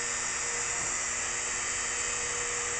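A rotary tool with a cutoff wheel cuts a groove through a plastic lane divider for an Aurora AFX slot car track, giving a steady high-pitched whining buzz that holds loud and unbroken throughout.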